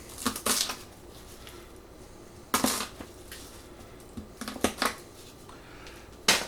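A knife trims around the base of garlic cloves for garlic soup, giving close, crisp crunching cuts in short irregular bursts with quiet pauses between, no talking.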